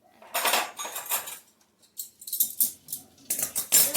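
Crunchy butterscotch bird's nest treat mixture being stirred, giving dry rustling crunches in short, irregular bursts separated by pauses, close and fairly loud.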